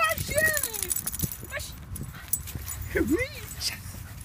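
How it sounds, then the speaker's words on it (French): A dog whimpers and gives several high, sliding yips in short bursts while people talk over it nearby. "Oh, chien!"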